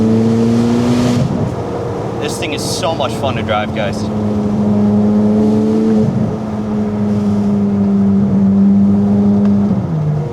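A Corvette C8 Z06 with a full titanium exhaust pulls hard at full throttle, a loud, steady engine drone rising and shifting pitch across the run, with a driver talking over it inside the cabin.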